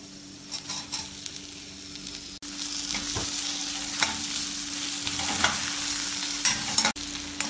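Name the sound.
stir-frying chopped tomato with ginger, garlic and green chili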